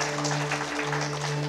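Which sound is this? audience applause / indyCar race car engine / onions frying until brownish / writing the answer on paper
audience applause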